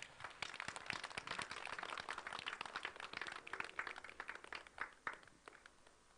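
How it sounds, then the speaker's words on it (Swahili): A crowd welcomes the Governor at the first National Mango Conference with scattered, moderately distant clapping, rising and thinning irregularly over several seconds. "Makofi tafadhali."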